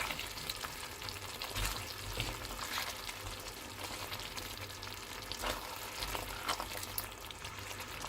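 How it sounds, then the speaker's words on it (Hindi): Daal gosht cooks in a pan while being stirred, giving a continuous moderate sizzle and bubbling with soft scraping and clinks, even and unbroken, no voices. "तो इसको 2 से 3 मिनट मैं पका लेती हूँ इसके साथ मिक्स करके"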